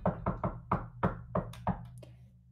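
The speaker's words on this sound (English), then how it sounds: "ball up his fist and rap on it loudly" A fist raps loudly on a large metal door in a tabletop fantasy game scene, seven or eight sharp, close knocks in an uneven rhythm that fade at the end.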